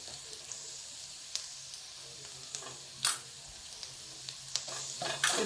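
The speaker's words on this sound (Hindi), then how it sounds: "इसको भी हल्का सा फ्राई करेंगे।" Crushed garlic fries in a pan with a faint steady sizzle, scattered crackles and spatters popping louder toward the end, with no talking.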